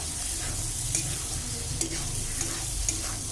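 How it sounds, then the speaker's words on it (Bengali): Fried pointed gourd and potato stir-fried in masala in a pan, a constant close sizzle with soft scraping stirring strokes throughout, no talk. "দিয়ে দেবো ভেজে রাখা পটল আলু পটল আলুতে খুব ভালো করে কষিয়ে নেবো"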